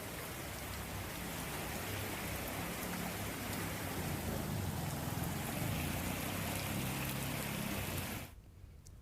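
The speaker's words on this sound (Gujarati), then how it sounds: "લીલિયામાં ધોધમાર વરસાદ વરસી રહ્યો છે" Heavy monsoon rain pours down steadily in Lilia, a dense, loud hiss of falling water with drops drumming on surfaces, continuing unbroken for about eight seconds before suddenly cutting out.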